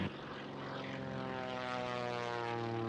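A propeller airplane roars steadily and loudly on a runway, its engine tone holding a constant strong hum throughout with no voices.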